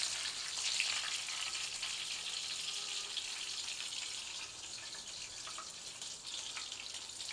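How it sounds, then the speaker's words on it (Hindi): Chapli kababs fry in a pan with a steady, soft sizzle and crackle of oil, close by and continuous with small bursts of spatter and no talking. "इसी तरह से हम बाकी भी फ्राई कर लेंगे"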